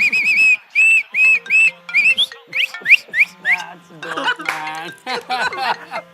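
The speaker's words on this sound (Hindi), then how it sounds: "मुझे सीटी बजानी भी आती है।" A man blows a shrill referee-style whistle in a string of short, punchy blasts, some rising in pitch, close and loud, followed by chuckling and a voice.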